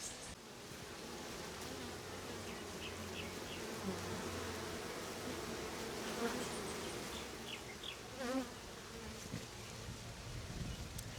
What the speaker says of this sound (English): So much bees inside of there.